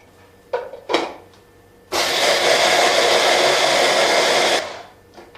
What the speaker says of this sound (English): garlic, ginger, chili, a good dose of salt, and we're going to give that a bit of a blitz